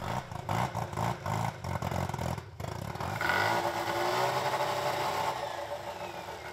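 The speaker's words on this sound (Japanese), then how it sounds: "燃料を入れて、いよいよエンジン始動です。" Restored Mazda RX500 rotary engine cranking in choppy bursts, then catching and settling into a steady, loud, buzzy running note.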